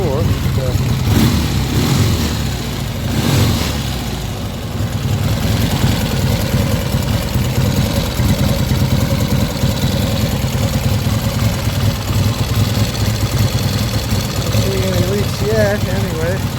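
A car engine, freshly started after oil was squirted into its cylinders, idles with a steady low rumble and light knocking, while people talk over it nearby.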